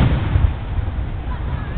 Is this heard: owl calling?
no